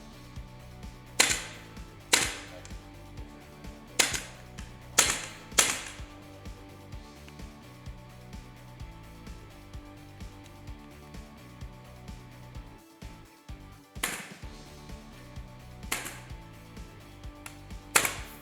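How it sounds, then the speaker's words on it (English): Sharp snapping clacks of a staple gun driving staples through upholstery fabric into a wooden chair frame, single and paired shots spaced irregularly apart, close and crisp with quiet handling between. "Fold the fabric smooth to the back outside edge of the lower back post and staple in place"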